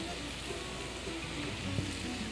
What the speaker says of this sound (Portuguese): enquanto o cogumelo ainda tá grelhando